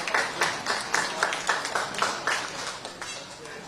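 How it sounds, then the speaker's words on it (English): A crowd at a campaign rally in Flushing, New York, for Governor Kathy Hochul claps in a brisk, fairly quiet round of applause, the claps blurring into an even patter. "Let's give him a round of applause."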